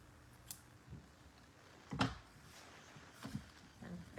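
Scissors snip through the trimmed end of a ribbon knot on a decorative craft project, giving a few short, close, fairly quiet cuts spaced over several seconds with no talk.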